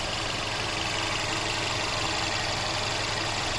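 The 2.0-litre turbo petrol engine of a 2018 Mercedes-AMG CLA idles steadily and quietly, a smooth, even hum with no revving and no talking.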